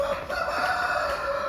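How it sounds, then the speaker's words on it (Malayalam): A rooster crows loudly and close by in one sustained call, with hens faintly clucking underneath. "കോഴിക്കളെ ഷിഫ്റ്റ് ചെയ്തോണ്ടിരിക്കാണ് വ്യത്യസ്തമായ കാഴ്ചയാണ്"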